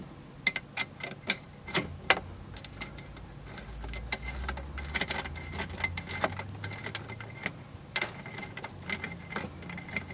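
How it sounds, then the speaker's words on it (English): Steering linkage on a Yamaha jet pump being screwed down by hand, with a quick series of light metallic ticks and clicks over a steady background hum, close and fairly quiet. "Just screw that down."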